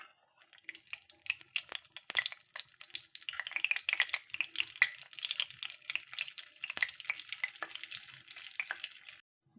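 Mustard oil and a spoonful of butter heat in a kadai, giving a steady, close crackle and sizzle of small popping bursts that runs throughout.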